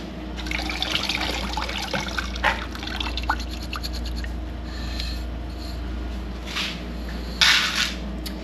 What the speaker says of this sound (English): I'll rinse it off and show you the final product